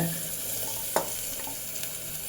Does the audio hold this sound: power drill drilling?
no